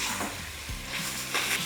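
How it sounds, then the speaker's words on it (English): Finely sliced onions and scotch bonnet peppers sizzle in a hot pot as they are stirred in, a steady frying hiss with a few scraping stirs, close and fairly loud, no talk. "I want to go in with my finely sliced onions, scotch bonnet for heat."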